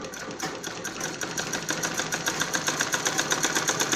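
A sewing machine runs in a fast, even rattle as it stitches a seam on an apple-cut kurti, steady and close with no pauses.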